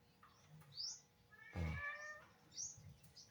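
A cat meows several times on a property where chickens are kept; short, fairly faint calls with one louder meow in the middle, heard alone against quiet background.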